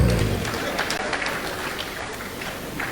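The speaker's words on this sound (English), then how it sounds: "Please applaud him again." Audience at a labour house commission event applauding a Reverend, a dense, fairly loud wash of clapping from a crowd that continues steadily throughout.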